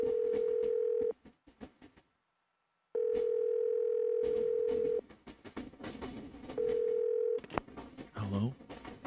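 A telephone dial tone in a horror video game, a loud steady hum that plays in long stretches, broken by gaps, dialing beeps and game sounds.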